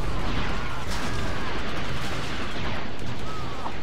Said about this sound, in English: I'm just gonna randomly throw grenades here and hope I get kills